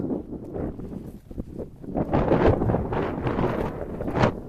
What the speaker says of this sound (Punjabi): ਇੰਨੀ ਤੇਜ਼ ਹਵਾ ਆਇਆ ਇਸ ਵੇਲੇ